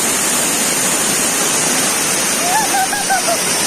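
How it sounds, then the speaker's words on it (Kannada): Water crashing down at Chamadka waterfall as the monsoon begins, a close, loud, steady roar, with a short series of high bird chirps rising over it near the end. "ವಾಯ್ಸ್ ಕೇಳ್ತಿದ್ದೆ ಗೊತ್ತಿಲ್ಲ ನೀರು ಬೀಳೋ ಶಬ್ದಕ್ಕೆ"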